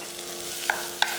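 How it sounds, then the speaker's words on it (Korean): Two quick clinks of a utensil against a pot over a soft steady hiss as ginger dry-roasts without oil on low heat, close by and without speech. "기름 넣지 않고 구워서 갈색이 날 때까지 볶아줬다."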